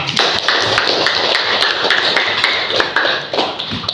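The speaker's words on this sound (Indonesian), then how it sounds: "tepuk tangan dulu buat kita semua" A group at a school session applauds with fast, evenly spaced hand claps, a continuous close patter that carries on without pause and with no speech over it.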